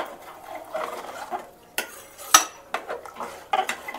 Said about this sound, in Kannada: ಇವಾಗೆಲ್ಲ ನೀರೆಲ್ಲ ಹಾಕಿದ್ಮೇಲೆ ಸ್ವಲ್ಪ ಎಲ್ಲ ಹಿಂಗೆ ಮಿಕ್ಸ್ ಮಾಡೋಣ ಈ ಥರ